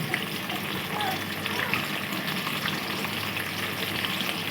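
Pieces of katla fish fry in hot oil for a Bengali fish curry, giving a continuous, moderately quiet sizzle and crackle with faint stirring or water sounds underneath.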